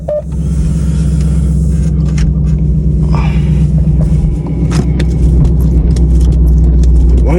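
Loud, continuous low rumble of a car exhaust with the mid mufflers cut, idling or moving steadily throughout, with a few faint clicks and rattles over the top.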